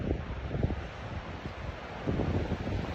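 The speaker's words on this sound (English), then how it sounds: "I think you can hear the wind." Wind gusts roar and rush through swaying trees on a snowy winter hike to Silver Falls, with the blustery noise buffeting the microphone steadily throughout.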